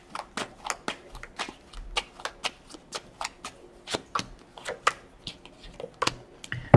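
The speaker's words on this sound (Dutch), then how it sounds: "Dus aan de kaarten schudden om te kijken wat deze week voor jou gaat brengen." Tarot cards being shuffled by hand, a quick run of crisp papery flicks and snaps in an uneven rhythm, close and fairly soft.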